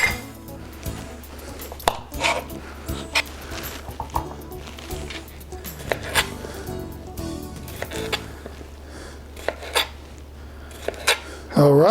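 A knife slices small fruits in half on a board, giving scattered sharp taps and clinks of blade and dishes at an irregular pace, close and fairly clear, with a low steady hum underneath.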